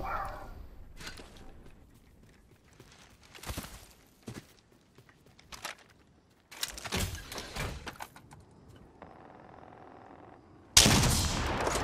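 Gunfire in the Apex Legends video game: scattered short bursts and single shots at moderate loudness, with quieter gaps between them and a loud burst near the end.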